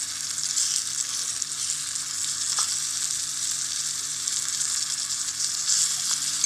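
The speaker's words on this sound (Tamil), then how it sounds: "அதுக்கப்புறமா கீறி வச்சிருக்க பச்சை மிளகாய் சேர்த்து நல்லா வதக்கிக்கலாம்." Ginger garlic paste and slit green chilies sauté in a small pan in a miniature kitchen, giving a steady, close sizzle of hot oil that holds evenly throughout with no talking.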